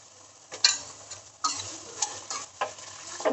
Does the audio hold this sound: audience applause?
no